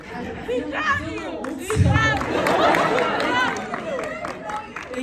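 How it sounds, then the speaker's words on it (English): An audience at a K-pop convention panel at KCON 2022 in Los Angeles cheers and chatters as a crowd, with a brief louder swell, all beneath someone talking into a microphone. "thank you guys for cheering all the time"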